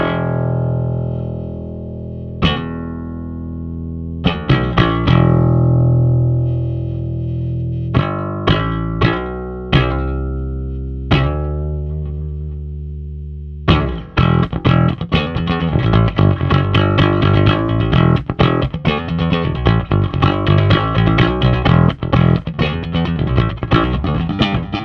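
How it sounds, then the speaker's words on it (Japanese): Electric bass picked with a 2 mm Gravity pick, opening with single sustained notes and short gaps, then a dense, driving run of rapid picked notes through an effects-heavy, slightly distorted tone. "グラビティっていうメーカーの2ミリ一気やってみます"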